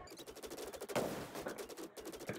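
Rapid bursts of video game gunfire, firing exploding rounds in a shooter match, crackle close and loud in quick succession across the moment with no talk over it.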